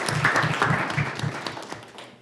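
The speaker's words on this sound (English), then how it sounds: "Let's give them a round of applause for being here tonight" An audience applauds students at a school governing board meeting, with brisk clapping at the start that thins and fades over about two seconds as a voice briefly cuts in.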